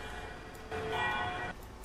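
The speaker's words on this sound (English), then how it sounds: "The sound of the bell, it just kind of makes it a little dimmer." A bell in the OMSI 2 bus simulator, set on the Cayuga USA map, chimes with a steady ringing tone for under a second amid a low background hum of the bus.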